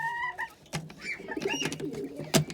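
Pet birds in a home aviary call noisily at close range, with cooing and chirping, several overlapping calls and sharp clicks spread irregularly across a few seconds.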